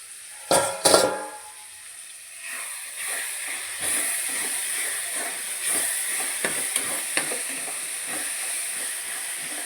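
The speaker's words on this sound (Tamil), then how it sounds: "இப்போ தக்காளி நல்லா வதங்கிடுச்சான்னு சொல்லி நம்ம பார்க்கலாம்" Tomatoes sautéing in a pan, a steady hiss and sizzle with scattered stirring scrapes and clicks throughout, moderately close, no talking.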